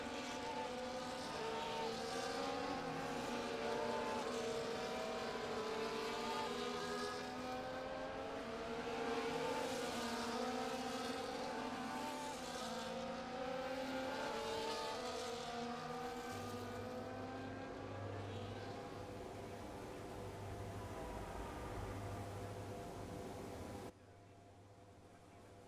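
F1 race cars idle and rev on the starting grid at Suzuka, Japan in F1 24, a steady loud engine drone with wavering pitch as several cars burble together, continuing for the whole stretch.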